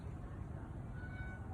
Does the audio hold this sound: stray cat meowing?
yes